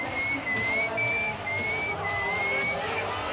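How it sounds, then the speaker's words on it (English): A person whistles a short, steady tune at a televised wrestling event, faint and thin over a constant roar of arena crowd noise. "Will you stop with that whistling?"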